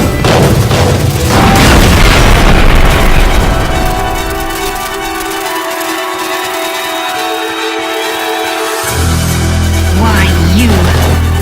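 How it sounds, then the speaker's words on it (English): Blasts from crates being blown up in a Metal Gear video game, several loud booming hits early on followed by a sustained low rumble, with game music and effects layered throughout. "You keep blowing up all the crates."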